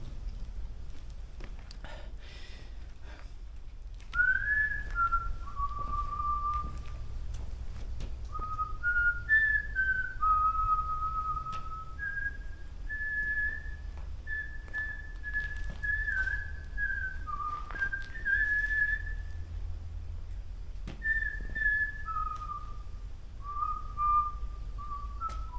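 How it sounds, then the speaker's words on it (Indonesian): A person whistles a slow, wandering tune outdoors at a supposedly haunted spot, clear melodic phrases with short pauses, fairly close over a quiet background with faint rustling. "siul ya teman-teman"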